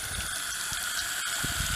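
Radish microgreens being sprayed thoroughly with water, a steady close hiss of spray and droplets on the dense greens, continuous and fairly quiet with no talk.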